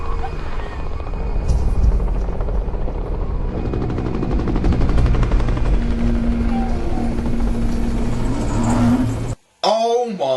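A helicopter airlifting a giraffe over snowy mountains in the disaster film 2012 gives a loud, continuous rotor roar with a heavy low drone. It cuts off abruptly near the end, followed by a brief wavering tonal sound.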